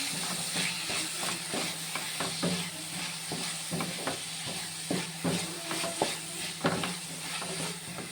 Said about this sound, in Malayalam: വെളുത്തുള്ളിയും ഇഞ്ചിയും പേസ്റ്റാക്കി എടുത്ത് കൊടുക്കാമേ ഇതും കൂടി ഇട്ട ശേഷം നമുക്ക് നന്നായിട്ട് ഇളക്കിയെടുക്കാം